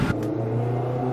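A BMW M8's engine holds a deep, steady low rumble for a second, close and loud, with a brief higher burst at the start and no talk over it.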